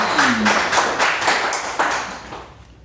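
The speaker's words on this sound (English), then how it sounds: "Round of applause." An audience claps in a short round of applause, with distinct individual claps close by that taper off within a few seconds.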